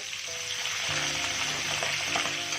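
A fish head fries in a pan with a steady, close, dense sizzle and crackle that holds at an even level throughout, with faint tonal hum behind it.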